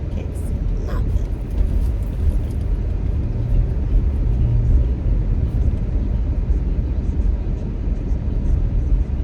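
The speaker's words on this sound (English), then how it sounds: "Hate to be behind these big ass trucks." Heavy road traffic rumbles steadily from large trucks driving just ahead on the road, a continuous low drone heard from inside a following vehicle.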